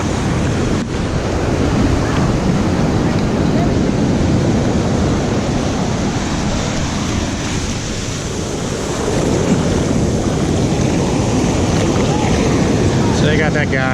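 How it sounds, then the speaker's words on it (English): Large ocean waves crash continuously on a sandy beach, a loud, steady roar of surf with heavy wind buffeting the microphone throughout. "the waves are so big right now"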